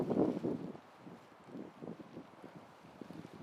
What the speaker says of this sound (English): that wind has been gusting enough to bend these poles